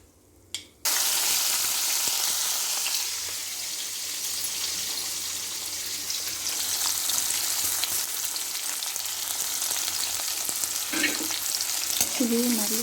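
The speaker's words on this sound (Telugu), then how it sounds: "ఇప్పుడు ఈ ఆయిల్లో ఆనియన్స్ వేసుకుందాం" Steady, loud sizzling of onions frying in hot oil, a continuous hiss that starts abruptly after a short quiet moment, with occasional faint stirring noises.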